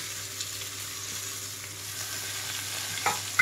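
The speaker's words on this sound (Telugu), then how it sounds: "పుదీనా, కొత్తిమీర చక్కగా వేగిపోవాలి." Mint, coriander, tomato, carrot and beans frying in a pan for a soya-chunk biryani make a continuous, even sizzle at low volume, with a faint stirring clink near the end and no talk.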